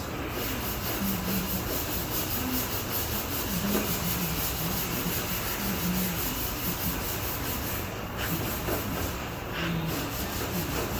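A dent in the body of a 1991 Jeep Cherokee Limited is hand sanded with 80 grit sandpaper, giving a steady, close rasping scrub that runs continuously with no talk.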